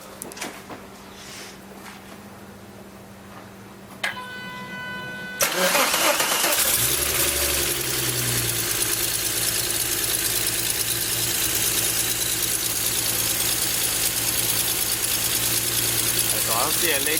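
A car engine cranks and catches, then settles into a loud, rumbling idle through an exhaust made from a turbo, heard close after a quieter stretch with some talk.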